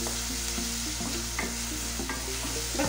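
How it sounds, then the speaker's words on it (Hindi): Onions sauté in a hot pan with a constant, close sizzle and frequent stirring scrapes. A low steady hum sits underneath. "बस प्याज को ट्रांसपेरेंट होने तक सॉटे।"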